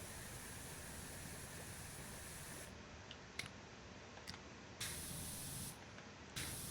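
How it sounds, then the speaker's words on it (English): Pressure washer spraying soap in the video game PowerWash Simulator 2: a loud, steady hiss of spray that cuts off and restarts in a few short bursts toward the end. "Out here, where I can clean and spray this soap."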